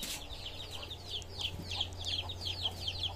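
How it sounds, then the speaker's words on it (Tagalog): A chicken clucks in a rural setting on Sibay Island, giving a run of short, repeated calls at close to moderate distance over a low background hum. "Hindi, yung ibon. Yung manok."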